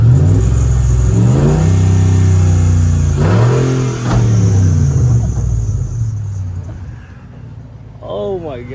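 A Hemi-swapped truck revs hard, its exhaust bellowing in rising and falling pulls, loud and close, with a heavy rumbling idle between bursts before it fades toward the end.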